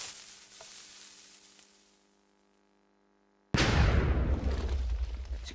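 A redstone-powered TNT cannon in Minecraft goes off: a faint fading rumble dies into near silence, then a sudden loud explosion blasts in and crackles on, with no talk.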